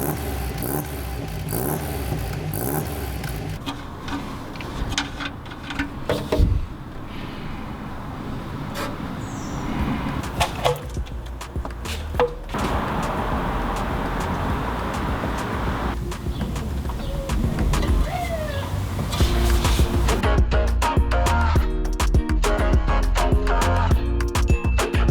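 An MGB sports car engine with a new exhaust runs steadily for about 25 seconds, a low rumble that swells toward the end, with birds cooing and clatter nearby.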